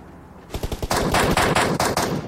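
Rapid bursts of automatic gunfire, a few single shots, then a sustained loud rattling volley, sounding close and sharp.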